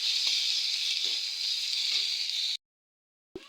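Chopped onions sizzle steadily in hot oil in a pan, with a loud, continuous hiss lasting a few seconds before cutting out, and a brief clatter at the end.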